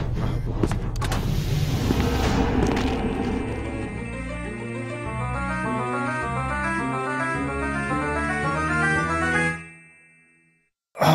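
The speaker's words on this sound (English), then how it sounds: "Oh, yes, a car." A synthetic car engine in the video game SCP Containment Breach hums and revs steadily with a pulsing, repeating tone, then cuts out abruptly into near silence.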